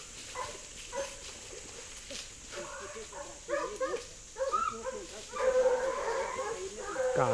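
Pack of hunting dogs on a wild boar hunt yipping, barking and whimpering in irregular bursts at close to middle distance, with someone talking over them.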